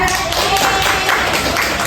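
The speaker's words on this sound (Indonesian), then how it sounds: "Kita tepuk tangan dulu." A classroom of students claps hands together in a short, dense burst of clapping that fills the room.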